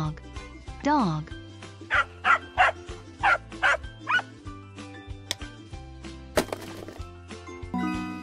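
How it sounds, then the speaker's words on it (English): A dog barks in a quick series of five or six short, sharp barks against background music, preceded by a rising yelp-like sound. "dog, dog,"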